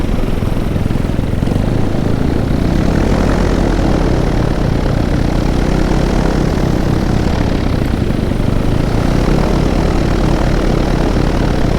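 A paramotor's propeller engine drones loud and close as the pilot comes in to land over a field, a steady unbroken buzzing roar with slight swells in intensity throughout and no talk.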